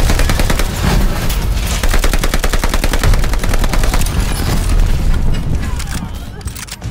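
Rapid automatic gunfire in the video game Arm's Race, a loud, dense stream of evenly spaced shots with booming impacts, continuous for several seconds before thinning slightly near the end, with voices mixed underneath.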